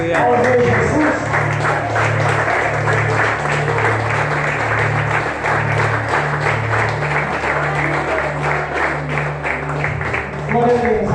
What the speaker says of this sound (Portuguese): Vamos aplaudir o nome de Jesus mais forte.